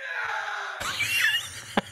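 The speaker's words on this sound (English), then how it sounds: "That scream." Soundboard scream effect: a harsh, distorted, loud shriek bursts in abruptly, wavering in pitch over about a second, then two short sharp knocks close it out.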